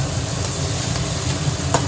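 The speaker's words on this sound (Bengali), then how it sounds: "এই যে এখন পাস্তার প্রিপারেশান চলছে পেঁয়াজ ক্যাপসিকাম ভাজা" Onion and capsicum frying in a pan for pasta in a home kitchen: a loud, steady close sizzle with occasional stirring scrapes and a brief clink near the end.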